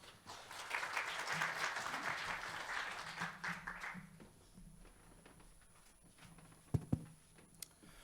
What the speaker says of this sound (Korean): 마찬가지로 큰 박수 부탁드리겠습니다.